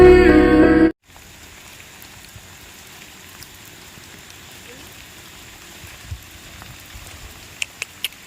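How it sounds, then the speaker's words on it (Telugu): Rain falling as a faint, steady patter with a few soft drops and taps, heard after a brief loud burst of other sound at the start. "వర్షం పడుతుంది"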